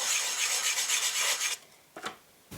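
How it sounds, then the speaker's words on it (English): Hand sanding of dried Bondo body filler on a plastic blaster prop with 220 grit sandpaper, a continuous raspy rubbing for about a second and a half, then two short strokes after a pause, close and alone. "After the filler had ample time to dry, I sanded it off with 220 grit sandpaper."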